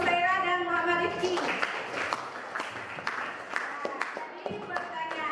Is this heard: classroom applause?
yes